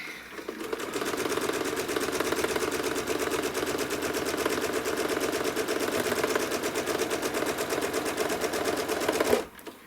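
A sewing machine runs steadily while stitching through a quilt, giving a dense, continuous mechanical whir with a fast even pulse, close and loud for nearly ten seconds before stopping abruptly.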